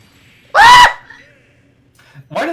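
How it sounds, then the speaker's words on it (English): A Super Smash Bros. Ultimate character lets out a short, loud cartoonish scream like Homer Simpson, followed by quiet and then a voice starting to speak. "Why did that sound like a Homer Simpson scream?"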